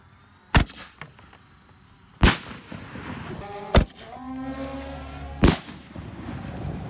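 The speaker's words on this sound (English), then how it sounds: "Hook us up with some fireworks." Fireworks being shot go off as four loud, sharp bangs spaced a second or more apart, each followed by a brief decaying rumble, with no talk in between.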